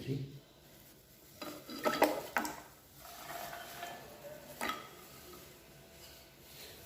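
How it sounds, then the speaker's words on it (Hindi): Pieces of ice are dropped into a blender jar of banana milkshake at home, giving a few sharp, close clinks and clatters in quick bursts around a quiet kitchen background, with no talking. "अब इसमें हम डालेंगे बर्फ़ के पीसेस।"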